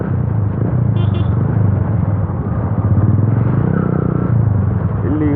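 A Yamaha FZ V2 motorcycle fitted with an Akrapovic exhaust and no dB killer roars loudly and steadily at close range, a deep rumbling engine note that swells with throttle throughout.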